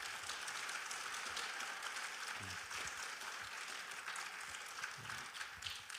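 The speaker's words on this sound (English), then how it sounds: "let's give a round of applause to our two candidates" Applause from the audience at a candidate forum fills the room, a steady wash of clapping throughout, with a few faint voices underneath.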